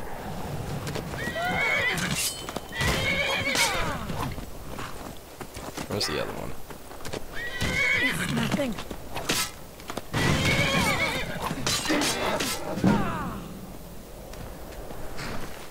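Repeated horse whinnies and neighs in Skyrim amid clip-clopping hooves and thuds, with a person talking intermittently over the noise.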